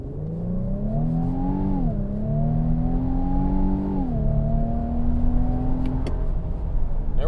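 A 2025 Infiniti QX80 Autograph accelerates hard from 0 to 60 in sport mode, its twin-turbo engine note rising steadily in pitch with two clear upshifts, heard from inside the cabin.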